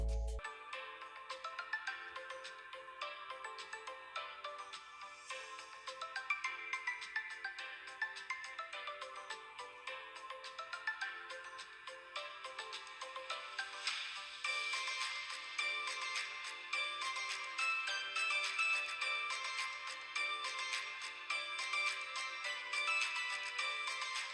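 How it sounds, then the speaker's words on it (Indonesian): An iPhone XR's stereo speakers play a ringtone as a bright, bouncy electronic melody, steady and fairly quiet, continuing throughout without speech. "speaker iPhone XR sudah stereo, dan suaranya juga enak kok."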